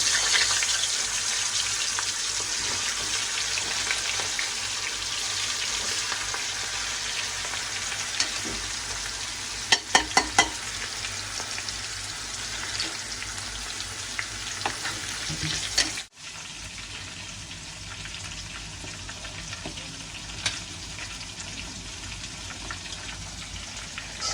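Chicken frying in hot oil, a loud continuous hiss that runs unbroken, then drops to a quieter sizzle after a sudden cut partway through.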